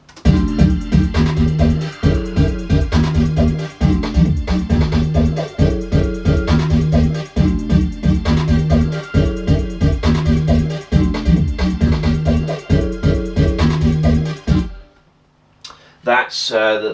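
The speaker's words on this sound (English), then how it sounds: "And that's pretty much how the chorus is going to sound." A full grime instrumental chorus with every layer playing together: a steady, looping beat of punchy drums, bass and stacked synth parts repeating in bars, loud and dense, cutting out near the end before a few scattered hits return.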